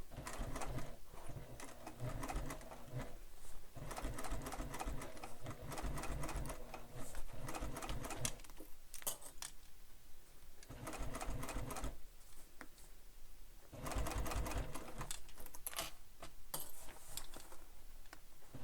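A sewing machine stitches binding through bulky layers of a bag with a lengthened stitch, its rapid clattering run in several bursts with short pauses between.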